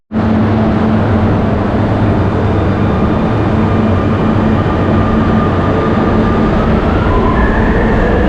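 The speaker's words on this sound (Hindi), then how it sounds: "इस तरह की है मेट्रो।" A Barcelona metro train runs in a loud, steady rumble that starts abruptly and holds unbroken throughout, with no voices.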